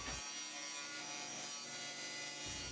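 A table saw rips through a large sheet of pre-finished plywood cut for a kitchen island cabinet base, a steady broadband whine of blade on wood running the whole time, close and loud, with no talking.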